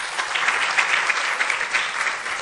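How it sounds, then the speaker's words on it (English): A crowd applauding steadily, a dense wash of clapping that holds at an even level throughout. "Please give them a round of applause."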